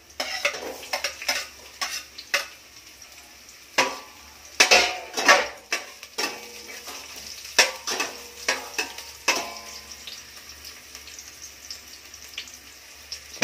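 Garlic and onions fry in a pan for chicken adobo, with a low sizzle under a run of sharp utensil scrapes and clinks against the pan. The knocks fall in irregular bursts, close and fairly loud.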